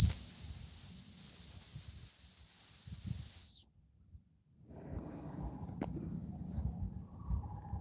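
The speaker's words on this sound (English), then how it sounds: "Use my dog whistle." A loud, piercing dog whistle holds one steady high note for several seconds and stops abruptly, followed by quiet rustling.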